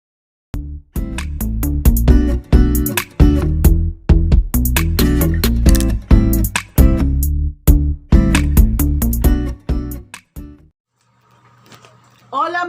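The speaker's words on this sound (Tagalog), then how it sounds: "Yung tunog ng Cherry Mobile." A Cherry Mobile Alpha tablet plays its loud startup jingle for about ten seconds, a punchy burst of chords and percussive hits, then falls to a quiet tone.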